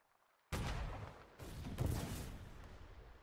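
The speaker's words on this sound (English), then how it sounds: "I just heard an explosion to our east." A distant explosion in the war game Foxhole, heard as a sudden boom followed by a second rumbling blast that trails off slowly, moderately loud with no talk over it.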